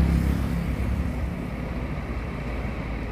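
Piracicabana bus pulling into the Ribeirão Preto bus terminal, a steady low diesel rumble with no voices.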